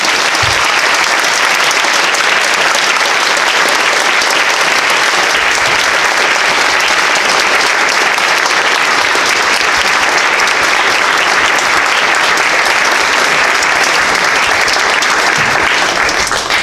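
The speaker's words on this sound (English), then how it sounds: "I'd like a round of applause for our presenters for tonight for their fantastic speeches" An audience at an evolution debate gives sustained, loud, dense applause for the presenters, unbroken for over sixteen seconds.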